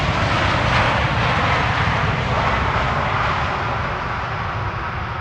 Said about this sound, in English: Here's the 777 arriving from Baku.